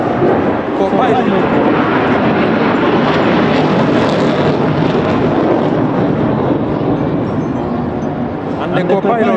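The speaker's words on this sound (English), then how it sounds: "The Tiger Sukhoi has joined the parade ground and is piloted by Lieutenant Emmanuel Sajabi" A military aircraft passes low over a parade ground at a presidential swearing-in ceremony, a loud, steady, broadband roar that fills the whole stretch without fading, with talk faintly mixed in.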